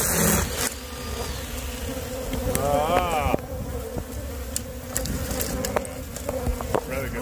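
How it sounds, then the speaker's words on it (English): Honeybees buzzing around a hive, a continuous close drone with individual bees passing near and away, and a brief voice in the middle. "These fucking honeybees."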